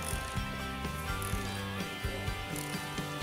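Ratchet wrench turning a lag bolt at a fish camp, a rapid ongoing clicking of the pawl in repeated back-and-forth strokes, close and steady with no talk.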